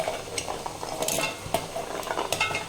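Shallots and garlic sizzle steadily in hot oil, with scattered clicks and scrapes of a utensil stirring the pan; no voices.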